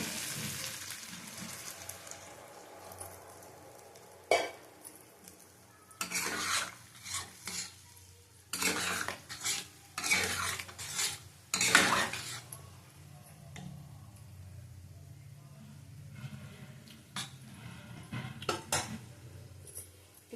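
Hilsa fish and taro curry being stirred and fried in a pan: bursts of loud scraping and clanking utensil strokes over a low sizzle, busier in the middle and quieter toward the end.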